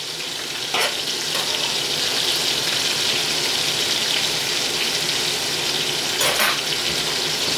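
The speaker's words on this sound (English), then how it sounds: "we're going to saute these for about 2 minutes" Vegetables for a chicken stir fry sizzle and fry steadily in a hot pan, a continuous broadband hiss at an even level with a couple of brief louder bursts as the food is stirred.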